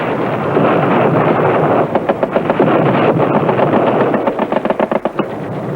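Rapid bursts of military machine gun fire, a dense rattling stream over steady wind-like rumble, with clearer separated shots breaking through near the middle and end.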